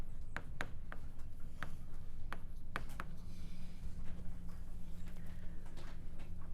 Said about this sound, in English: Let's write our PEMDAS out to the side.